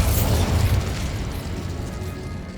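Hogwarts Legacy's Bombarda explosion spell lands with a loud low-pitched blast that rumbles, then slowly fades into a lingering tail over a couple of seconds.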